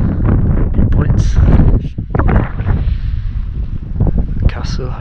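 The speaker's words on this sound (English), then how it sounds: "It's really quite windy actually" Strong wind buffets the microphone at a Scottish coastal beach viewpoint, a steady low roar with gusts throughout, while a person talks over it.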